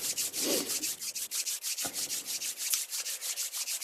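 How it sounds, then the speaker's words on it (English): Hands rubbed briskly together to warm them, a fast rhythmic swishing friction close to the microphone, repeating steadily stroke after stroke with no talking. "I do by rubbing my hands till they get kind of warm"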